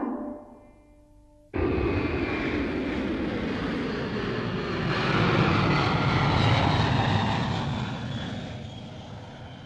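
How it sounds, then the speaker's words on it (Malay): A cartoon three-wheeled airplane from the Malay dub of Doraemon starts its engine with a sudden loud roar. The steady, broad droning continues without pause and swells slightly before easing. "Kapal terbang roda 3."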